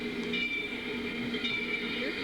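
A steam model of Engine 576 runs with a steady, continuous rail-like rumble and a hiss, accompanied by faint high tones, for a couple of seconds.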